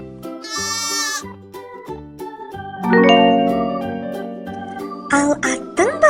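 A cartoon sheep bleats in a children's animation about farm animals: a few distinct, wavering, nasal calls, clear and close, with no talking.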